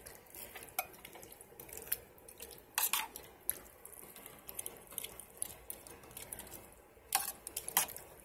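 Shrimp for noodle soup are turned in a frying pan with a utensil, giving irregular scraping and clinking metal knocks over a low sizzle, with a couple of louder clusters of clatter.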